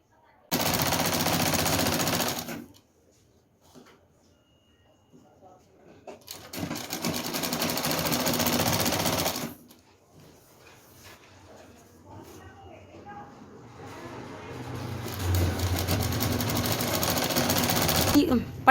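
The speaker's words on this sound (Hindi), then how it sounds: "यहाँ से हमने सिलाई लगाते हुए लाना है।" Sewing machine stitching a fabric strip along the edge of a petticoat, running in three loud sustained bursts separated by pauses with quiet handling noises, the last burst longer and rising.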